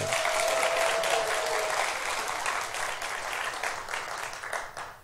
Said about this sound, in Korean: 성가대원만 딱 30명이 섰네요. 박수.